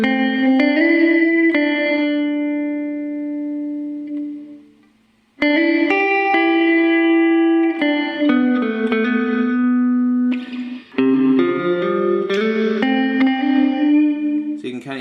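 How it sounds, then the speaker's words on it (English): Guitar through a Digitech Digiverb pedal on its gated reverb setting: single notes and chords ring with a big reverb tail that cuts off abruptly, with a sudden drop to near silence midway before the playing resumes. "So you can kind of hear it cutting in and out."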